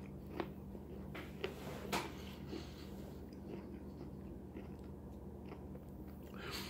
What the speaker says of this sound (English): I hope I was supposed to chew those and not add them to water.